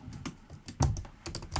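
Fingers type Python code on a computer keyboard in a few quick, uneven clusters of close, crisp key clicks, fairly quiet and with no speech.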